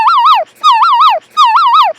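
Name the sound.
voice imitating a house alarm siren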